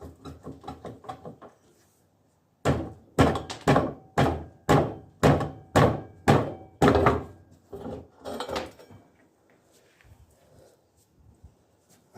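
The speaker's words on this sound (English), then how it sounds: "Should be able to just rock the wheel off." Wheel being rocked and knocked off a Yamaha XJ900S motorcycle in a lock-up garage, a run of about eight loud, evenly spaced wooden-sounding thunks close by, with softer knocks before and after.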